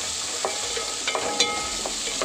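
Onion and garlic fry in a pan for a village-style nethili karuvadu kulambu, a steady soft sizzle broken by a few light, close stirring scrapes.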